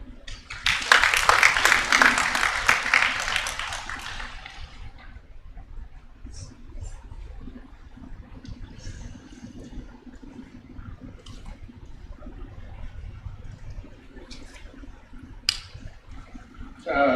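An audience at a national demographic dividend conference claps after a keynote speech, a dense burst lasting about four seconds that stops abruptly, followed by a quiet room with faint scattered noises.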